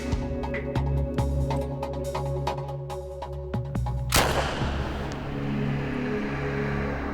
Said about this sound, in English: This will be a 45 cartridge fired through the Tommy gun.